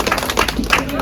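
An audience at an evening mehendi celebration claps to welcome guests, scattered hand claps close by, mixed with a speaker's voice over the top.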